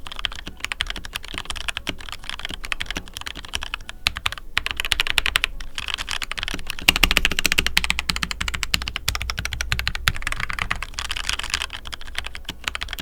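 Steady, fast typing on an upgraded budget mechanical keyboard costing $25, with dense clacky keystrokes in a continuous rhythm, close and clear, and no talking.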